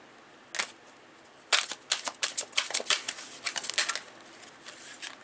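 Tarot cards shuffled by hand, a brief riffle early on, then a longer run of quick crisp flutters and snaps close to the microphone, with no talking.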